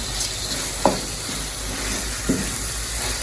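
Gizzard frying in a pan for fried rice with spicy green sauce, a steady close sizzle with two brief sharp clatters of stirring against the pan.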